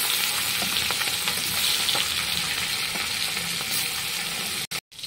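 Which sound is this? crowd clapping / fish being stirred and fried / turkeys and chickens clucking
fish being stirred and fried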